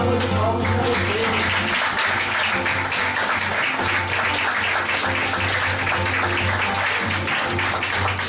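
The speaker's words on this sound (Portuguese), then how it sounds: "Uma salva de palmas para você." An audience at a poetry recital breaks into sustained, dense applause that fills the room evenly throughout, with a steady low tone running underneath.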